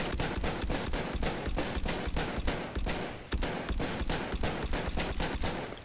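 Rapid, evenly spaced automatic gunfire in Battlefield 1, loud and close, rattling steadily without pause across the whole stretch.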